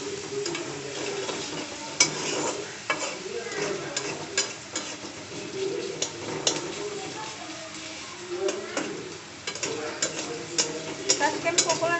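Onions and green chilies fry in a pan for noodles, a continuous close sizzle broken by frequent clinks and scrapes of stirring.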